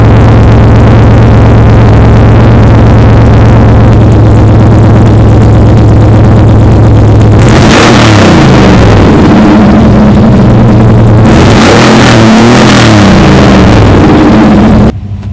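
A 383 small-block Chevy V8 in a truck idles loudly through an exhaust tucked under the bed and firing down over the axle, then revs up twice in strong bursts, close and rumbling.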